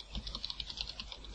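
Rapid, quiet keystrokes on a computer keyboard as C# code is typed, a brief close-up burst of light clicks in an even rhythm with no voices.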